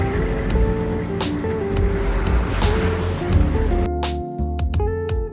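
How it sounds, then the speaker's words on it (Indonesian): High ocean waves surge toward land in a disaster film about the moon falling to Earth, a loud continuous roar of surf with wind and rumbling, then an abrupt cut to music-like tones. "mereka langsung memulai penerbangan pesawat yang disertai dengan datangnya ombak air laut tinggi yang hendak menghantam daratan"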